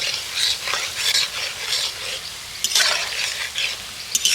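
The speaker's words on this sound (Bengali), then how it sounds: "নেড়ে দিয়ে এইভাবে যত তেল নাচিয়ে নাচিয়ে ভাজা যাবে ততই কিন্তু এগুলো ফুলবে" Raw potato and flattened rice snacks deep-frying in hot oil while being stirred, a steady close crackling sizzle with bursts of bubbling and occasional utensil scrapes, no voices.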